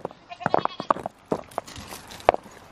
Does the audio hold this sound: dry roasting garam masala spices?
no